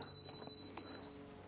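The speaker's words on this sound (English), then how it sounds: "It beeps, it turns on" A Dreo Solaris 718 PTC fan heater gives a single thin, high electronic beep, interrupted by a tiny break, right after being plugged in, heard clearly over a quiet room.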